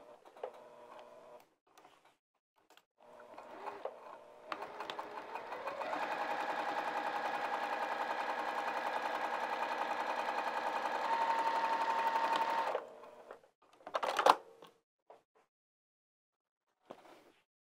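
A sewing machine with a walking foot stitches a fabric bag in one long steady whirring run of about eight seconds, preceded and followed by shorter bursts and handling clicks, close and alone.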